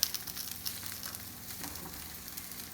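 Brussels sprouts fry in a pan with a steady close sizzle and faint crackles, alone without talk.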